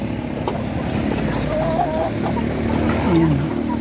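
Farm chickens cluck in a feeding area, a few soft, close calls over a steady background of barnyard noise.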